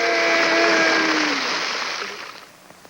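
A long, loud, steady whistle is blown close by for about two seconds, shrill and sustained before tapering off into quieter rustling.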